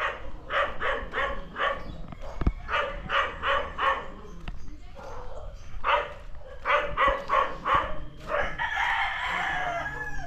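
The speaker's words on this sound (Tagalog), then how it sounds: "Daming manok." Several roosters crow in turn among a large flock of chickens, bursts of throaty cock-a-doodle-doo calls repeating close by, mixed with clucking and a dog barking, with some talk in the background.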